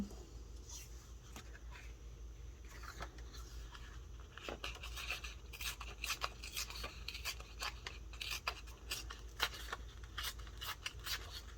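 Scissors snip through paper to trim a strawberry-themed junk journal tag, a run of short crisp cuts in close, quiet succession against a faint steady room hum.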